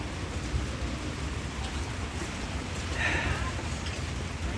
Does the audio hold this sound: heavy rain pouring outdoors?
yes